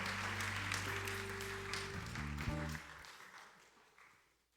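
A church youth congregation at a Sunday service claps in welcome, a broad wash of applause over sustained low organ or keyboard tones that fades away toward the end.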